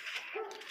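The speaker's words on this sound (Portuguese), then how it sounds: "As cachorradas aqui latindo, como de costume, né?" Dogs barking and whimpering in the game Honkai Impact, a short, slightly muffled burst of yips and a whine set against game background noise, with no talk over it.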